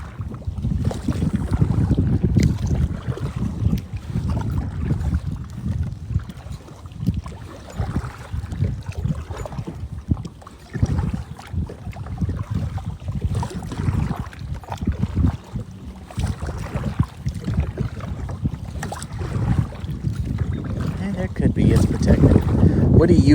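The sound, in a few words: wind on open water from a boat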